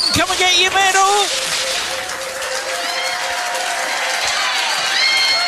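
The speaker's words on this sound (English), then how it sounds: "Give a round of applause." An audience at a trivia quiz night applauds and cheers for the winner, lively clapping mixed with excited voices and shouts, loud at the start and continuing under crowd chatter.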